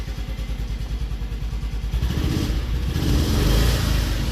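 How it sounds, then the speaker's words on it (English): A small engine revs repeatedly, its rapid pulsing rising into a louder, sustained roar near the microphone. "Let's give her a few more revs here."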